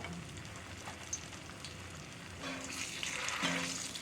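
Southern-style okra fries in a hot cast iron skillet, a steady close crackling sizzle that swells a little louder and busier toward the end.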